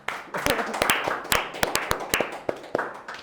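A small group applauds for Pak Hasan, a former pilot turned martabak seller, with sharp, distinct hand claps close by, uneven and fairly sparse over a low hubbub.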